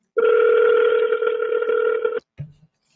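A telephone dial tone holds steady and loud for about two seconds, then cuts off abruptly, followed by a short low thump as the phone is redialed.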